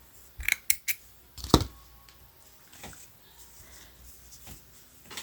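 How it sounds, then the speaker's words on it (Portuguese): Scissors snip through crochet yarn in a few sharp, close cuts near the start, followed by quieter handling rustles. "aqui a gente pode cortar o fio"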